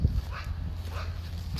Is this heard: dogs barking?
yes